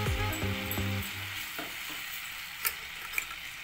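Tamarind and jaggery chutney with salt and chilli simmers in a pan, a soft steady bubbling sizzle with a faint tonal whine at first and a couple of light clicks later.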